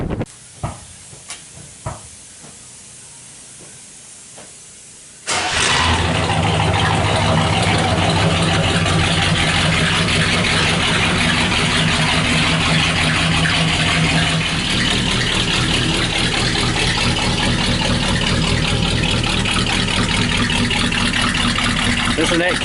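A 1967 Buick GS 400 convertible cranks with a few short starter clicks, then fires and settles into a loud, steady idle with a lumpy, rumbling cam lope that fills the rest of the clip.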